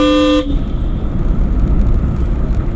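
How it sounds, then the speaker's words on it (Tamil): A loud car horn blares briefly at the start from inside a car, then cuts off into steady rumbling road and engine noise close by. "ஹார்ன் அடிச்சு தாண்டி போகணும்."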